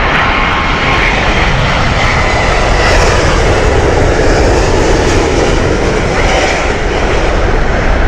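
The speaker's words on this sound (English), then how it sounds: "Aircraft used today is again the 777-200, the older 777." A 22-year-old Boeing 777-200 airliner at Heathrow Airport roars loudly and continuously with engine noise, a dense close rumble and hiss.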